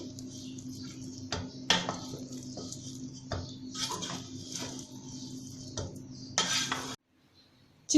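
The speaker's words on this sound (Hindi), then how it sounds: "अब बिरयानी का दम खोल लेंगे। अब इसको मिक्स कर लेंगे।" Chicken biryani being mixed in a pot after its dum is opened, with scattered clinks and scrapes of a spoon against metal over a steady low hum, then near silence at the end.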